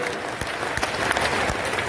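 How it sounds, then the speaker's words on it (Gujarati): A large crowd applauding at a grand temple event honouring a guru, a dense burst of clapping from many hands with a few sharper claps standing out. "એકવાર જોરદાર તાળીઓ થઈ જાય"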